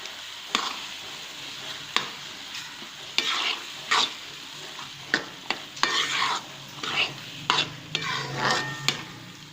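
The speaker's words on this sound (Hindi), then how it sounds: "अब मैं इसमें दही शामिल कर रही हूँ" Yogurt goes into frying keema (minced meat) in a pan with peas and whole spices. Loud, close spoon strokes scrape and clatter against the pan at irregular intervals over a continuous sizzle, with no talking.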